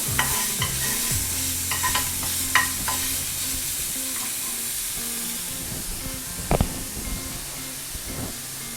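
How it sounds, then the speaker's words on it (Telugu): A pan of sweet corn and aloo samosa filling fries and sizzles steadily as a spoon scrapes and stirs through it with scattered clinks, close and continuous with no voices. "ఇది కొంచెం ఫ్రై అయ్యే వరకు ఉంచేసుకున్న తర్వాత స్వీట్ కార్న్ యాడ్ చేసుకుందాం దీంట్లో."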